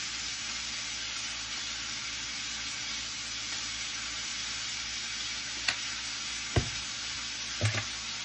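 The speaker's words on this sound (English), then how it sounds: "You don't want to cook the fire out of it, you just want to sear it." Beef for pot roast sears in a hot pan with a steady, dense sizzle, joined late by a few sharp clinks and scrapes from utensils.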